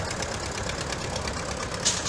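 A 1949 Ferguson T30 tractor idles at a tractor parade at Little Log House, its engine giving a steady, continuous rumble at moderate distance with a brief higher sound near the end.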